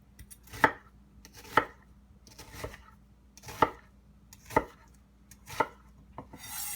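Knife cutting through an onion on a cutting board, six or seven crisp, evenly spaced chops about a second apart, close and clear with no talk.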